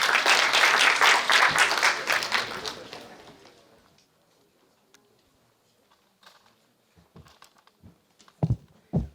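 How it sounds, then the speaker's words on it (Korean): An audience welcoming a speaker at a talk on a North Korean defector's settlement in South Korea claps loudly for a few seconds, then it fades to near silence broken by a few faint scattered sounds. "큰 박수로 맞이해 주시기 바랍니다"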